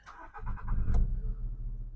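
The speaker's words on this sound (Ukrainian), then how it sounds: "Мотор працює чітко, рівно, не димить," Volkswagen Golf 5 hatchback from 2008 with a 1.6 MPI petrol engine, 147,000 km, idling steadily nearby with a low, even rumble and a slightly louder swell partway through.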